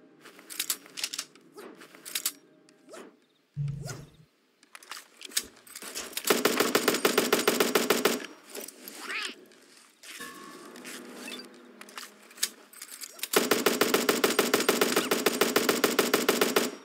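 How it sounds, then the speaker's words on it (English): Tommy gun bursts in the Super Animal Royale video game, with dense rapid-fire volleys of loud clattering shots in two long sustained bursts plus scattered shorter pops and clicks, heard without talk. "Ooh, Tommy gun!"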